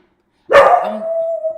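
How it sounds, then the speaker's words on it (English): A single loud, close dog bark that trails off into a drawn-out, whining howl. "That's my dog who hears the noise."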